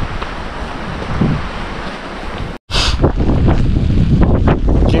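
Strong wind roars and buffets the microphone on a mountain trail climbing toward the Martial Glacier, a steady, loud rushing broken by one brief dropout, with no voices.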